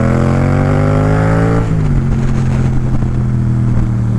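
Yamaha MT-07 motorcycle accelerating uphill, its loud engine note climbing steadily before a gear shift drops the pitch, then pulling on strongly and close.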